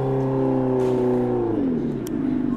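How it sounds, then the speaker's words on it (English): Simulated motorcycle engine sound from a Revolt RV400 electric motorcycle accelerating: a steady, close humming drone that bends downward in pitch near the end, heard alone without talk. "So when you accelerate, it's got a motorcycle sound"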